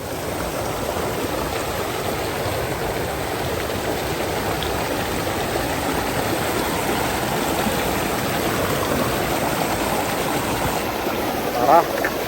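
A mountain river streams past on the trail up Gunung Patah via Pagar Alam, a steady, loud rushing wash of water filling the whole stretch with no letup, with a brief nearby knock near the end.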